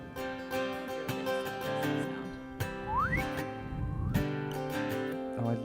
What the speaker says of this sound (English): Now there are slide whistles in our song.